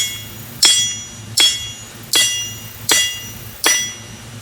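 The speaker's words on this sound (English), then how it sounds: "Use a little bit longer handled hammer here." A blacksmith swings a longer-handled hammer onto hot metal at a home-built forge table, giving five sharp, ringing strikes in a steady, unhurried rhythm with quiet gaps between them. The blows are close and loud, and no one speaks.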